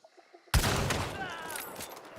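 Gunfire in the video game Hunt: Showdown: a few faint taps, then a single sharp, loud shot that rings out and decays slowly, with no talking.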